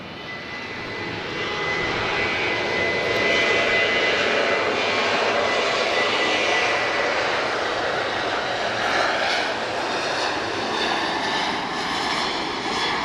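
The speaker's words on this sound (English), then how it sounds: "Ryanair, she's off to Luxembourg FR, Foxtrot Romeo 6490." A Ryanair jet departs Lisbon airport bound for Luxembourg, its engines a loud, steady roar that builds over the first couple of seconds and then holds strong for the rest of the run.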